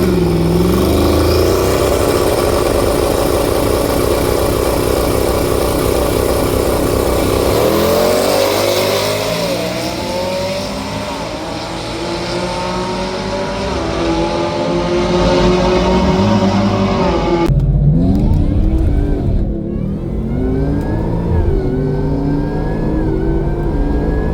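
A Roush S650 Mustang on a drag strip revs hard and pulls through its gears, the loud engine note climbing in pitch, briefly cutting out near the end and then resuming, with no talk over it.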